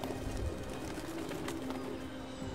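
A pigeon coos low and soft, half buried in a steady background hum with no voices.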